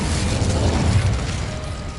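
An Incendio fire spell from a Harry Potter game goes off in a loud, rumbling burst with a whooshing blaze that swells around the middle and then slowly tapers.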